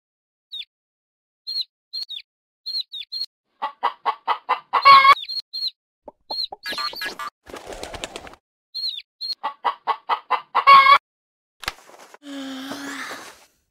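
Chickens clucking in quick rhythmic bursts, with sharp squawks and a brief flutter of wings between the runs of clucks.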